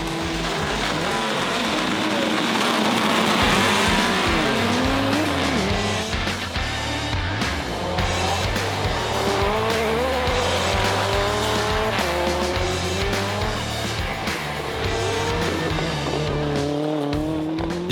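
Vintage rally race cars are driven hard on a track at a demonstration event, with engines roaring steadily and tires squealing for the whole stretch, loud and continuous with changing pitch, and no talk.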